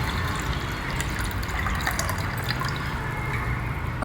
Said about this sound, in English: We'll add some water to this